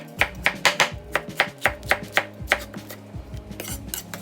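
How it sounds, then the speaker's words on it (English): A sharp knife dicing food on a cutting board, producing crisp, regular chopping knocks at roughly two or three per second, close and clear with no speech. "This is your typical dice. Make sure you have a sharp knife to avoid being cut."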